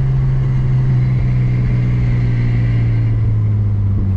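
A BMW E36 making 600 whp runs on track in 35-degree heat, its engine giving a loud, steady drone with a continuous low tone throughout, no clear gear change standing out.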